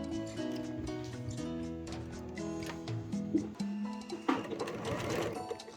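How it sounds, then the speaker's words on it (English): A sewing machine runs a straight stitch on a fabric pouch, its motor whirring in steady bursts with rhythmic mechanical ticking close by, followed by a brief louder clatter near the end. "you can go ahead and sew a straight stitch"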